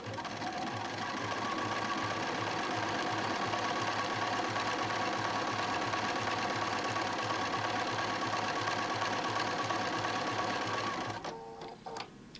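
A sewing machine stitches through a quilt in a fast, steady mechanical chatter that runs continuously at moderate volume, then slows and stops near the end.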